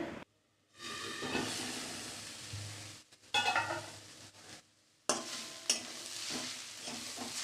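Beetroot vegetables sizzle and hiss in hot oil in a pan while being stirred, with bursts of frying broken by brief silent gaps and scraping of the spoon against the pan, close and moderately loud.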